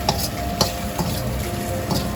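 Stir-frying in a wok: a steady sizzle with scraping and clinking of a utensil against the pan at irregular intervals, close up, with no talking.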